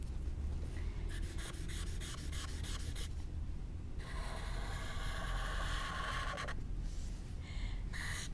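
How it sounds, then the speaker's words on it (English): Chisel-tip marker coloring a stamped image on paper, giving close, continuous scratchy rubbing strokes in quick back-and-forth bursts with short pauses between passes. "I'm going to go ahead and use the chisel tip so I can cover more area"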